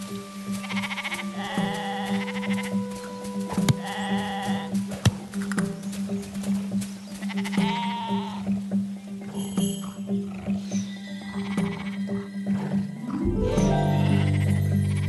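Sheep bleating in the video game DvG Conquering Giants, repeated wavering bleats over a steady game music bed, fairly close, with no talking.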